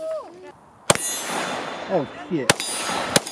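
Three sharp, loud gunshots from a Glock pistol loaded with Russian ammunition ring out in an outdoor pit, spaced unevenly with metallic ringing tails, while people talk and exclaim between shots.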